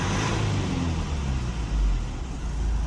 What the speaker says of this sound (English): If I rev the car to 3000 rpm